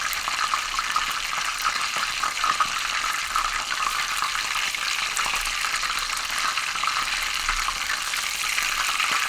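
Food frying in hot oil, with a dense, steady sizzle and crackle close by and small pops scattered throughout, heard alone without talk.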